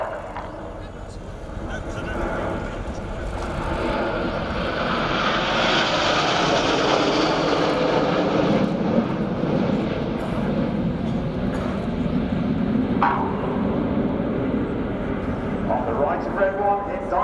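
Red Arrows Hawk jets in tight diamond formation at an air show, a broad steady engine roar swelling and holding loud overhead, with a commentator speaking over it.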